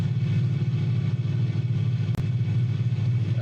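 A Cirrus SF50 Vision Jet engine in Microsoft Flight Simulator 2020 struggles while the nose is pitched too high, giving a loud, steady low drone with a brief click partway through.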